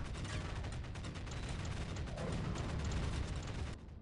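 Dense gunfire and explosions crackle continuously in a Dawn of War: Ultimate Apocalypse battle, rapid overlapping shots and booms at a steady, busy rhythm that cut off abruptly at the end.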